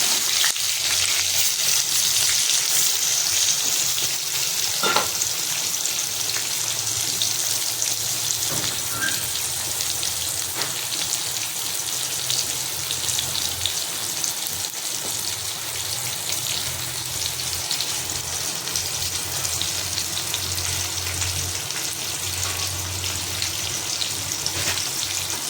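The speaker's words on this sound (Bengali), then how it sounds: "এই যে বেগুনটা একটু লাল করে ভেজে নেব উল্টে পাল্টে।" Eggplant pieces frying in oil and being turned over in the pan, a steady crackling sizzle throughout with a few brief clinks as they are flipped, no talking.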